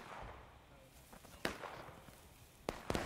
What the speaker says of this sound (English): We do hear some shots happening over here